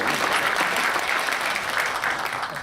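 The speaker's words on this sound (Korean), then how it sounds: "다시 한번 큰 박수로 축하 말씀 드리겠습니다." Steady applause from an audience at a Korean film critics' awards ceremony, honoring the winners of an independent film support award for a documentary, continuous and dense throughout with no talk.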